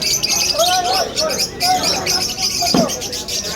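Birds chirp and coo in short bursts amid a busy crowd murmur at a pet market in Malabon, with voices chattering nearby throughout.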